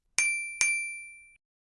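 Two bright notification bell dings, one right after the other, each ringing out with a clean metallic tone that decays over about a second, alone with no other sound.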